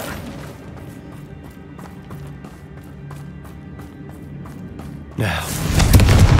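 A Confringo blasting curse explosion in the video game Hogwarts Legacy erupts suddenly and loudly after several seconds of quiet ambience with faint rhythmic taps, rumbling on heavily to the end.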